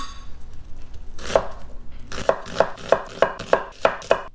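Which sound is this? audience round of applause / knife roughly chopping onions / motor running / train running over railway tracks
knife roughly chopping onions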